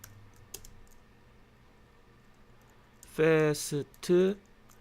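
Fingers tap a few sparse, quiet clicks on a computer keyboard while an Arduino program is written, followed by a short burst of a man's speech near the end.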